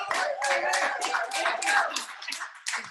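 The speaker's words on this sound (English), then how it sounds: "Come on, everybody, round of applause" Audience applause at a live comedy show, a dense burst of many hands clapping close and loud for nearly three seconds before thinning out, with cheering voices mixed in.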